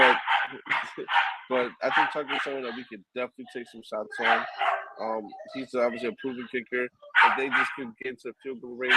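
A dog barks and yips in the background of a room, intermittent and moderately loud, under steady talk from a man discussing football.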